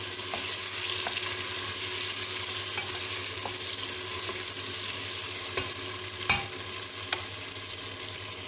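Tomatoes fry in a pan for daal mash with a steady, even sizzle throughout, broken by a few soft clinks and scrapes of stirring.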